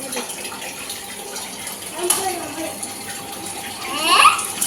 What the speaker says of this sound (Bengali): এখানে জল দিচ্ছে, আর এই যে ওখান থেকে জল নিয়ে আসছে